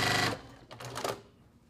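A sewing machine stitches pieced quilt blocks with a quarter-inch seam, running fast in a dense whirring burst before slowing into a few short, lighter runs, close and alone with no voices.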